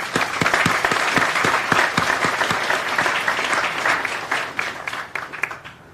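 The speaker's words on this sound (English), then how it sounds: "that deserves an applause right there" Audience applause at a ceremonial groundbreaking in Connersville, Fayette County, a loud, dense crowd clapping that holds steady and then thins slightly toward the end, with no voices over it.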